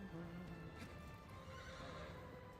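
A horse in Shadow of the Colossus lets out a brief whinny at the start, faint under a dense, loud game soundscape with rumbling ambience.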